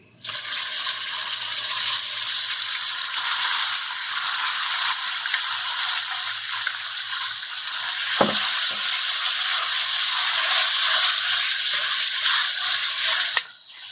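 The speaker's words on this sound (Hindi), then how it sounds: "अब कीमे को हम 4 से 5 मिनट मीडियम हाई फ्लेम पर भून लेंगे" Marinated keema frying in a pan of fried onions over a medium-high flame, a steady loud sizzle filling the whole stretch with a brief scrape or stir near the end.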